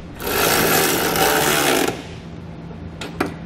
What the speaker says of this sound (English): I'm going to come back with a 16mm socket and tighten everything up.